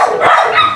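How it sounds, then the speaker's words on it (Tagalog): A dog barks once, short and sharp, close by and loud, in an outdoor yard with a guava tree. "Ang daming aso eh."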